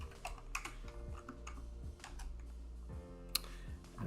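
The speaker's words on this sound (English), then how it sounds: "So I'll type my password in" Keystrokes from a computer keyboard as a password is typed, a quick irregular run of soft clicks with one sharper tap near the end, close and alone against a faint background hum.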